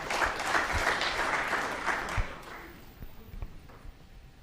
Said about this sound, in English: Ripple of applause for Ronnie O'Sullivan